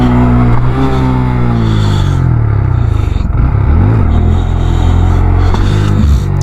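A Honda Grom motorcycle revs loud and close during slow wheelie practice in a neighborhood, the engine note rising and dipping with a brief drop midway before building again.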